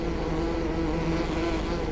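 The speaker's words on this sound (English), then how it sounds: "the bees drive me insane" Continuous bee buzzing from beehive boxes in the farming game Farming Simulator 15, a steady droning hum that stays level and fairly loud throughout, with no talk over it.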